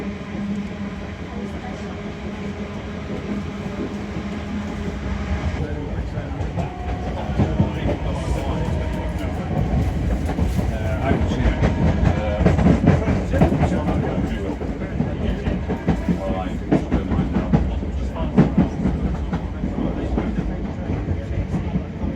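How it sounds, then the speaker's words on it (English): A British Rail Class 455 electric passenger train rumbles past close by, a steady rolling roar with rattling wheel clatter building toward the middle and holding to the end. "Here we are now passing the second train for the farewell tour."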